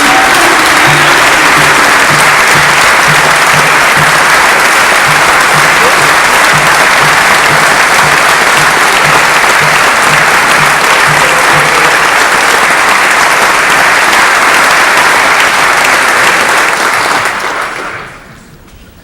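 Sustained, dense applause from an inauguration audience fills the room at steady loudness for most of the span, then fades out near the end.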